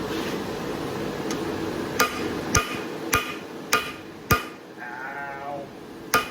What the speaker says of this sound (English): Start pulling this material with the round end of the hammer down.